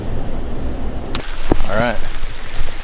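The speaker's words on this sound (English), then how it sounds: "As you see, it's raining." Steady rain falls outdoors on Wisconsin public land during the first cold front of an October season. It is a broad, continuous wash mixed with gusting wind, with a brief spoken word partway through.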